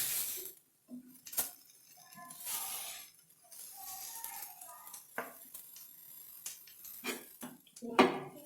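Egg and banana snack sprinkled with sugar is moved into another dish, with scattered clinks and scrapes of a spoon against metal and glass, some sharper taps near the end, alongside a speaking voice.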